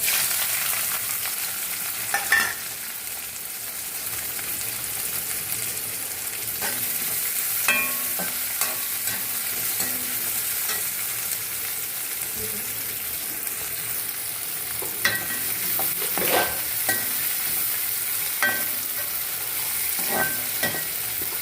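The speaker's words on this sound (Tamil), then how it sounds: "நறுக்கி வச்சுருக்க வெங்காயத்தை போட போகிறோம்." Chopped onions hit hot oil with fennel seeds and curry leaves in a pan for a South Indian dish. A continuous sizzle is broken at intervals by the scrape and clatter of a spoon stirring.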